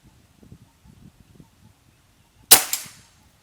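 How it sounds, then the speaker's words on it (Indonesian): A single sharp air rifle shot at a target cracks out after quiet faint rustling, with a short ringing tail. "Lanjut tembakan ketiga."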